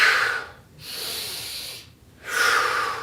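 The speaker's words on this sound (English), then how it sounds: "like butterfly breathing." Butterfly breathing qigong exercise: three loud, airy breaths close up, a strong inhale-exhale, a softer sustained breath, then another strong one, separated by brief pauses with no talking.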